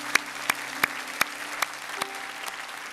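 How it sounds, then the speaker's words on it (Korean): Applause from a small church congregation during a Sunday service, with distinct claps spaced irregularly over a few seconds, moderately close and without voices. "하나님께 감사의 박수 올리겠습니다."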